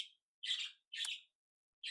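Pet parrots chirping indoors, three short bright bursts of tweeting separated by pauses, fairly close and moderately loud with no talking.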